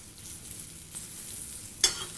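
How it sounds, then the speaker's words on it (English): Veal scaloppine sizzles in fat in a pan being shaken, a steady faint hiss with soft swells and a sharper burst of crackle near the end; no talking. "We like to make noise, we shake the pan."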